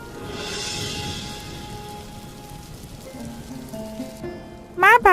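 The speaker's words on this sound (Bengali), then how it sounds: "এইরকম ঝড় বৃষ্টির রাতে যেতে চাইছো?" Heavy rain falls on a stormy night in an animated Bengali cartoon, a steady close hiss of downpour with faint tones underneath and a few sharp rising electronic chirps near the end.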